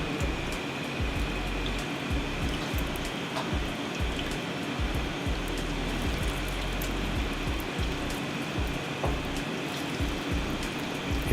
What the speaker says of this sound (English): The sizzle dies down, leaving a perfect golden crunch.